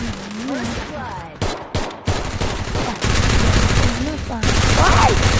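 Loud, rapid video-game gunfire crackles in bursts of automatic shots, with brief gaps between volleys and a voice talking over part of it.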